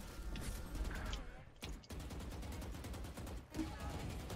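Shooting in a video game, dense bursts of rapid automatic gunfire at moderate loudness, broken by brief gaps, with heavy clattering reports throughout.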